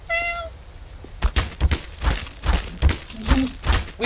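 A cat in a Garry's Mod horror map gives a few short meows near the start, followed by rhythmic thuds of in-game footsteps and rain.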